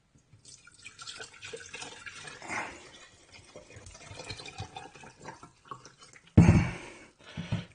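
Vinegar poured into glasses to soak the electrodes of a salt water pool system: soft, faint trickling and dripping, then a brief louder splashing gush near the end.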